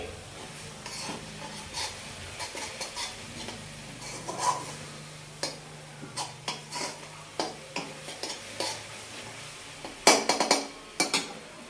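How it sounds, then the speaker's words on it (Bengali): A metal spatula stirs a drying coconut and milk barfi mixture in a pan over a low gas flame, giving irregular scraping and clinking taps against the pan with a faint hiss beneath, no voices. "তাই আমি গ্যাসটা একটু লো ফ্লেমে করে একটু নাড়িয়ে নিচ্ছি যতক্ষণ না জলটা শুকোবে"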